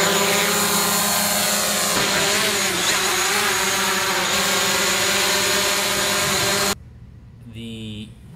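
A small drone flies inside a whiskey distillery, its propellers giving a loud, steady, high-pitched whine that holds for several seconds before cutting off abruptly, followed by a fainter rising hum.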